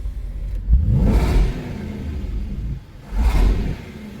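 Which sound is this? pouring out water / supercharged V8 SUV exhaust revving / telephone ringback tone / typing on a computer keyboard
supercharged V8 SUV exhaust revving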